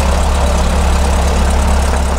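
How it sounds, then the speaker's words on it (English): A Cessna 152 engine idles at 1000 RPM just after start, a loud, steady low drone with an even propeller throb that holds unchanged throughout, close to the aircraft. "I set the power to 1000 RPM after the engine start."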